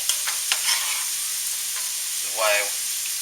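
Thin-cut potatoes frying to a golden colour in a pan; a steady bright sizzle with a few light stirring clicks and one brief louder hiss near the end, close and without talking.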